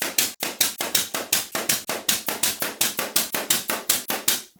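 Rapid, steady taps drive 1 1/4 inch brads into a glued plywood box beam, about two dozen sharp evenly spaced hits from a nailer or hammer, close and alone.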